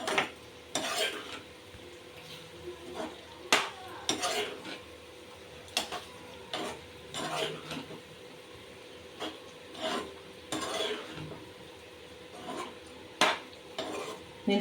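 A spoon scrapes and stirs a curd mixture in a pan for chicken masala curry, repeated rubbing strokes and clinks against the metal at irregular intervals, close and clear with no talking.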